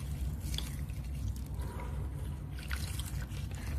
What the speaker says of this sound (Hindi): हाथों से मल के हम इसके छिलकों को अलग कर लेंगे।